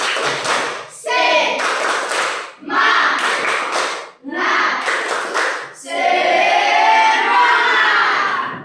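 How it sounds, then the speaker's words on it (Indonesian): A group stands and performs a tepuk semangat clapping chant, bursts of rhythmic claps alternating with chanted voices in four short rounds followed by a longer, sustained stretch of voices and claps. "Kita ice breaking dengan melakukan tepuk semangat"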